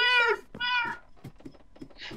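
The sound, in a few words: person imitating a cat meow in Minecraft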